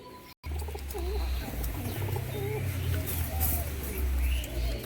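High-flying Madras pigeons coo in soft, wavering calls close by, under steady low background rumble with faint voices.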